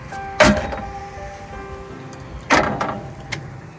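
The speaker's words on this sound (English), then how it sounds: "You can then use this to pull the ramp out." A BraunAbility manual fold-out ramp being pulled from the side door of a 2016 Dodge Grand Caravan: two loud metallic clunks about two seconds apart, with a faint hum and a soft rattle between them.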